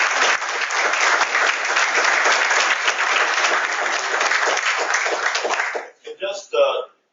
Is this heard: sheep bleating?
no